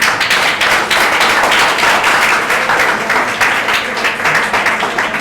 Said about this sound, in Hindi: हम सभी लोग डॉक्टर साहब का तालियों से स्वागत करेंगे